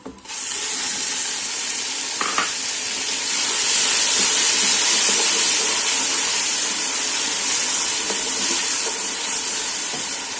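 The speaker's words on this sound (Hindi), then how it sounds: "अब इसमें हम जो ये टमाटर का पेस्ट डाल रहे हैं।" Onions fried golden brown in a pan hiss in a loud, steady sizzle as tomato paste goes in, the frying swelling louder midway with faint stirring scrapes and no talking over it.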